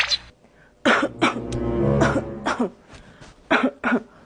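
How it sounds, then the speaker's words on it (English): A person coughs several times in short bursts, close and fairly loud, with pauses between groups of coughs. "I have a cough."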